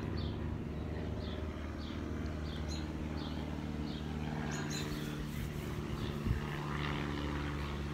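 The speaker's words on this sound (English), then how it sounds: "And airplanes." A propeller airplane drones steadily overhead in an outdoor setting, a continuous low engine hum with insect chirps scattered above it and no talk.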